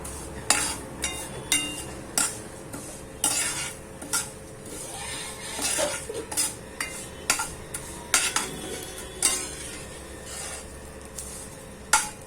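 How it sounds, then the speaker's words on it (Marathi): Vermicelli being roasted in a pan for kheer, a spoon scraping and stirring in repeated clinking strokes against metal over a faint steady sizzle, close by with no talking. "छान अशा आपल्याला तांबूस होईपर्यंत या शेवया परतून घ्यायच्या।"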